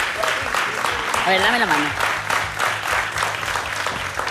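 Studio audience applause on a Spanish TV show fills the room, a steady wash of clapping that runs throughout while someone talks over it in the foreground.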